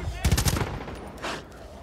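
A rattling burst of gunfire in Far Cry 5, several rapid shots followed by a pause and another shot, close and sharp with echoing tails.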